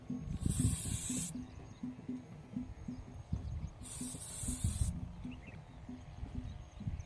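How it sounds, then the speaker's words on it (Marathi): Two bursts of spray from a nozzle, each about a second long, mist a fruit fly pest control product onto a chilli crop in the field. The hiss stands out above steady low background rumble and some rustling. "या ठिकाणी बघा अॅट्रॅप फळमाशीचा आपण स्प्रे घेतोय"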